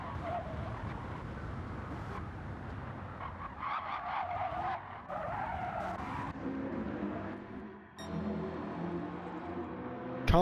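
A GTO race car spins out in a racing video game, its tires skidding and squealing continuously for several seconds under the engine roar, with commentary talking over it.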